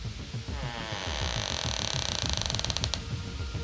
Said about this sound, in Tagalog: Lumapit ako sa pinto. Dahan-dahan ko ito binuksan.